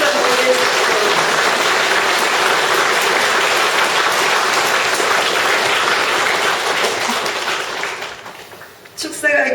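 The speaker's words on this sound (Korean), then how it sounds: "박수 한번 보내주십시오" A hall audience at a Korean graduate school degree ceremony applauds in a dense, sustained wave that fades near the end before a voice begins.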